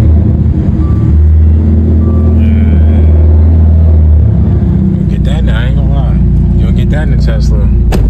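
A Dodge Dart car engine is warm started and left running, giving a loud, close rumbling idle that steadies after the start, with a person talking over the later part.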